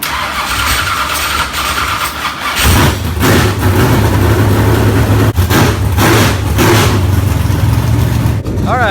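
A race car engine with a freshly swapped motor cranks over and catches, then settles into a loud, steady running rumble that continues to the end, with brief voices nearby.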